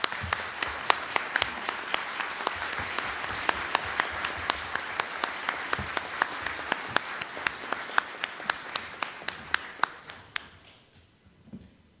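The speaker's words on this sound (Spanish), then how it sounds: "a los que creo que todos les debemos un fuerte aplauso" A room at a book presentation applauds the authors with steady clapping, distinct sharp claps standing out over a broad wash, which fades away toward the end.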